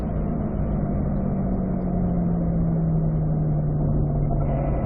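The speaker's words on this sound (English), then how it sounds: "Firm brake, downshift to third." A car braking firmly and downshifting to third gear on a race track during a practice day: a steady, loud engine drone with a tone sliding slowly downward, continuous and close.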